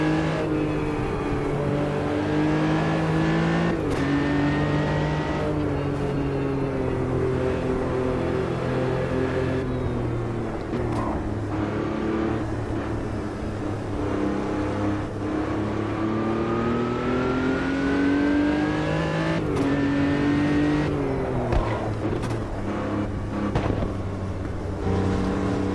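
A Porsche race car engine in the racing game Automobilista 2 drones continuously at high revs, rising and falling as gears shift, with other cars faintly audible around it and no speech.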